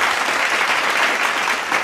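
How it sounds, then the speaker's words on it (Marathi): An audience claps loudly and continuously at a semi-final sports match, forming a dense, steady patter of applause close by. "टाळ्यांचा वर्षाव सुद्धा होत आहे बघा"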